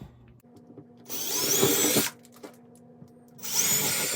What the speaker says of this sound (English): So we'll go ahead and drill through.